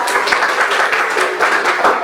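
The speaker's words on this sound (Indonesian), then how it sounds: "Tepuk tangan untuk kalian." Students clapping together in a classroom, a brisk, close cluster of hand claps with an uneven rhythm, moderately loud throughout.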